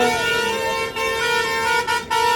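A loud vehicle horn honks in long sustained blasts with a couple of short breaks, close by.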